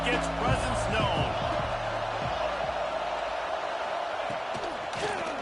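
A football stadium crowd roars steadily throughout, a dense, loud wall of cheering with a commentator talking over it.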